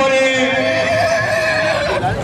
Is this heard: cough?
no